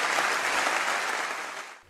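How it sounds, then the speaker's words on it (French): A short burst of steady applause from a crowd, loud at first and fading out toward the end. "Tiens, on les applaudit, merci beaucoup."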